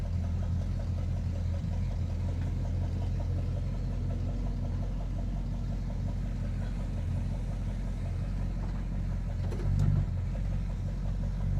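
A crew cab Charger's engine runs steadily at idle, a close, continuous low rumble with a faint regular ticking from a noisy lifter, briefly swelling near the end.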